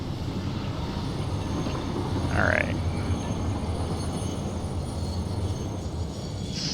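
A train running in the factory-building game Satisfactory, a steady low rumble of rolling rail cars throughout with a brief squeal partway through, while a person says a word.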